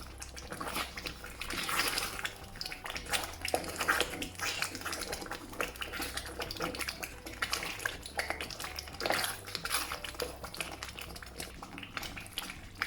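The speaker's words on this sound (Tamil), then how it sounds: "இப்போ 30 மினிட்ஸாக கிளறி கொண்டு இருக்கிறேன்" A thick rice flour dodol cooks in a pan while being stirred, with repeated wet squelching and bubbling scrapes in an irregular rhythm, close and without talk.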